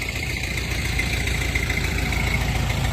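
A Jinma 404 mini tractor with a cab runs its engine, giving a steady low diesel drone with rhythmic knocking and vibration, close and continuous.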